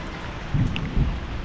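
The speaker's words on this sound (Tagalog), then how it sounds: "Nakakulog-kulog pa." Thunder rumbles low during steady rain, with two deeper swells of rumble over a constant patter, fairly close and moderately loud.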